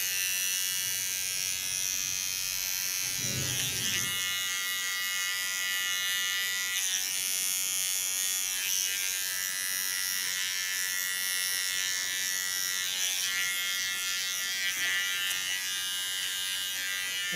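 Electric hair clipper buzzing steadily and close up while trimming short hair into a pixie cut, cleaning the contour line, a continuous whirring hum with slight shifts in tone as it moves.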